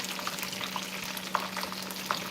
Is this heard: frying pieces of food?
yes